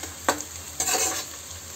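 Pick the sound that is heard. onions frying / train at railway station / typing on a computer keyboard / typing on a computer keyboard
onions frying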